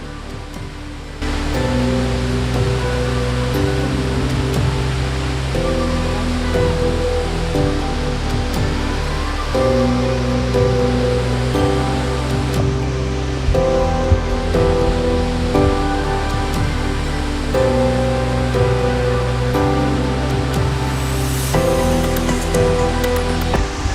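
Alalum Falls in Bukidnon, a slender single-stream waterfall, roaring as a loud, steady wash of falling water that stays constant throughout.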